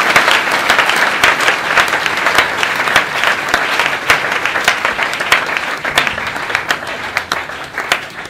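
Congregation at a church service in Brazzaville, Congo applauding loudly with dense, sustained clapping and cheering that fills the whole stretch without a break.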